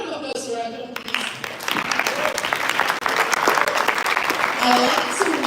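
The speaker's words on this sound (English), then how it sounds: "A round of applause for Rajon, please." Conference audience applauding a speaker, steady dense clapping that fills the room after a brief spoken introduction at the start.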